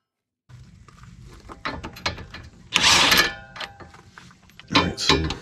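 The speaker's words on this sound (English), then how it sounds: "Now I'm going to remove this nut in order to release the sway bar link." A wrench ratchets off the sway bar link nut on a 2008 Honda CR-V EX-L front suspension, giving irregular metallic clicks and scrapes close by, with a louder clattering burst midway and another near the end.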